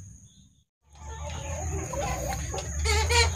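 After a brief moment of near silence, several free-range village chickens sick with snot cluck close by, their calls overlapping and growing busier toward the end.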